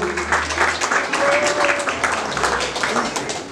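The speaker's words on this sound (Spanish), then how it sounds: "Esos fuertes aplausos a los padres de la novia." Wedding guests clap for the bride's parents, a loud round of applause with a voice speaking over it.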